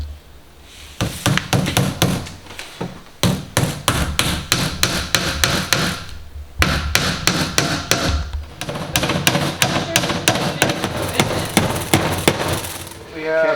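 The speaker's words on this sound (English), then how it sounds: "I'm gonna go pick up a hammer." A hammer strikes repeatedly while a Donco loft bed is being assembled: loud, close blows in fast, steady bursts with brief pauses between runs.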